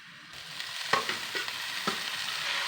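Colocasia leaves sizzle in a pan with fried onion and chilli, and a few scraping stirs of a spoon sound over a steady, moderately quiet frying hiss.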